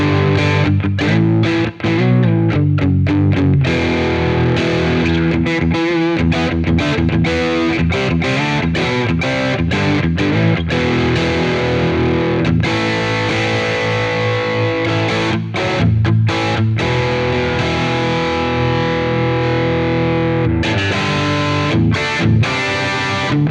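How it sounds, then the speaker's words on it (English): A Fender electro-acoustic guitar run through a Quad Cortex heavy-gain distortion patch, a dense, saturated electric chord riff played steadily for over twenty seconds with brief choppy stops, loud and alone. "I've activated a distortion patch now on there. I've brought in a much kind of heavier gain amplifier"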